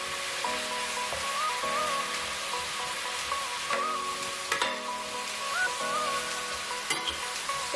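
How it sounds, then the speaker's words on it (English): Onions, bell pepper and mushrooms sizzle in a pan for beef stew while being stirred, a steady close frying hiss broken by repeated scraping strokes, with faint tonal sounds in the background. "So we're just going to stir all this in and let it cook up to a very hearty and tasty"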